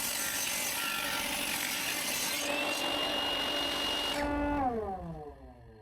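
A table saw cuts a wood piece for a crosscut sled, its blade howling steadily with a bright whine through the cut, then the pitch sinks as the motor spins down and fades out.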